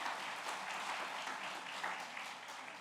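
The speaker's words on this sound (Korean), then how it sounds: "박수 한번 해주시기 바랍니다." Quiet, continuous clapping from a church congregation during a Sunday morning service, a soft uniform patter heard from some distance for a few seconds and easing slightly at the end.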